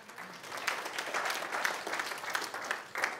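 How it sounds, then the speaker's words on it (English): Audience applause at a speaking session, a steady wash of clapping hands that holds for about three seconds with no voices over it. "Give a round of applause to that guy."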